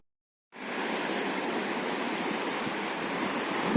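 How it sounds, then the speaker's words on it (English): Wind buffets the microphone of a Xiaomi Mi 5S Plus phone outdoors on a windy day, a steady, loud broadband roar that cuts in suddenly and continues without a break and without voices. "you can hear it picks up wind noise. It's quite windy here at the moment"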